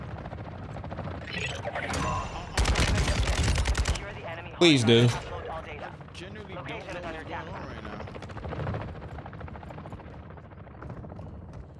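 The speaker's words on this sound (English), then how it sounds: "Why is there a helicopter over here?" Bursts of automatic gunfire and a helicopter rotor sound in the video game Warzone 2, with sharp loud volleys in the middle and players talking over the game audio throughout.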